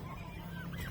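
Turkeys gobble nearby, a brief burst of throaty honking calls over a low background hum, lasting about a second.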